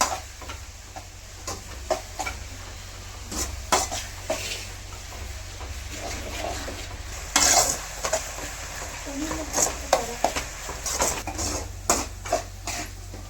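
Onions sauté in oil in a pan, a soft steady sizzle beneath repeated clinks and scrapes of a spoon stirring against the metal, continuing in irregular bursts throughout.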